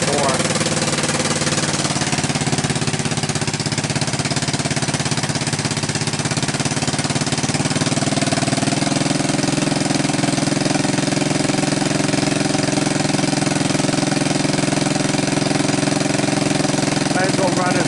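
A 1984 Honda ATC200M three-wheeler with a rough-running engine idles steadily up close, a loud continuous chugging mechanical drone that holds level throughout without pauses.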